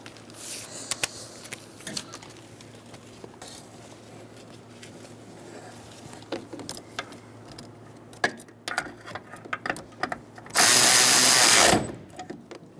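A power tool with a long socket snugs up the brake master cylinder nuts on a 1998–2011 Ford Ranger, running in one loud steady burst near the end after scattered clicks and handling clatter.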